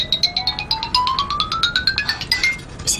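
A mobile phone ringtone plays as a rapid chiming melody of repeated electronic pulses that steadily climb in pitch, loud and close, with no voices over it.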